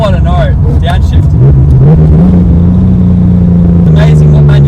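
A Ford EB Falcon engine with a T5 manual gearbox revs loudly and drops in pitch as the gears shift down, a steady throaty drone continuing close by, with a voice speaking over it.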